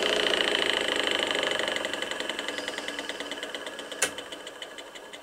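A Brook Motors Gryphon electric motor runs anti-clockwise with a steady whirring, rhythmic tone that gradually winds down in loudness, a sharp click partway through, and the pulsing hum slowing as it coasts.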